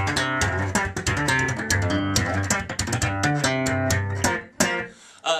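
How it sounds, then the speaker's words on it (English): Acoustic guitar played with a slap-and-pop technique: a loud, busy run of sharp percussive slaps and snapping plucked notes over ringing chords, steady and close, with a brief dip near the end. "So I play slap pop acoustic guitar when I'm looping a lot of times,"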